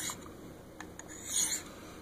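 A knife blade drawn lightly across a Work Sharp Field Sharpener, a few short, quiet raspy scraping strokes close up, with the last pass the longest.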